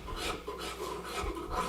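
A rasp files wood while shaping small table legs, close-up with coarse, rhythmic scraping strokes pushed along the grain, several quick passes in a row.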